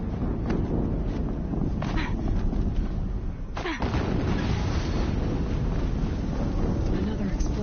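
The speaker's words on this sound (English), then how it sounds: "Another explosion." A heavy explosion in the video game Horizon Zero Dawn, heard as a loud, dense rumbling roar with a sharp blast near the middle, set amid continuous booming game combat noise.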